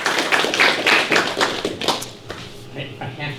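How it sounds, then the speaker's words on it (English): An audience at an air quality panel discussion claps, a few seconds of irregular hand claps that thin out and fade toward the end while people talk. "perhaps a round of applause for Krishna Viswanathan"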